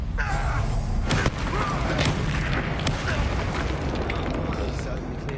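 An Incendio fire spell erupts in Hogwarts Legacy, a dense, roaring burst of flame with booming impacts that fills the room steadily and loudly for several seconds.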